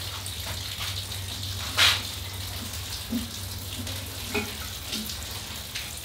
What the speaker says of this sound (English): That's a good flow rate to really thoroughly water the soil.